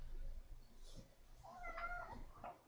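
A pet cat meows indoors in a quiet room, giving a couple of short, close mewing calls near the end with a faint low hum beneath.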